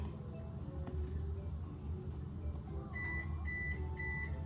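A kitchen oven sounds a short run of repeated high electronic beeps to signal it has finished preheating, fairly faint over a steady low room hum with a voice murmuring nearby.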